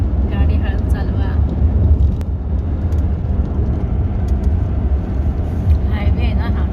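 Steady low road rumble of a car cruising along the Pune–Solapur highway, continuous and fairly loud throughout with wind and tyre noise and no clear breaks.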